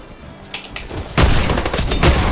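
Gunfire in an online video game, a quiet few pops and then a loud burst of rapid shots that keeps going to the end.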